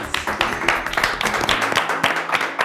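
Steady, dense clapping from children and a studio audience celebrating a spelling champion, close and continuous, with quick overlapping claps filling the whole stretch.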